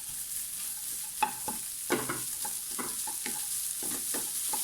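Broccoli stems tossed into a hot pan for a broccoli egg stir-fry, giving a steady sizzle broken by scraping, clattering stirs at irregular intervals, close up with no voices.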